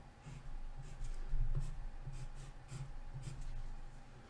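A pen draws domino-style diagram shapes on paper with soft, scratchy strokes that come in short bursts, quiet and close, with faint breathing in the background.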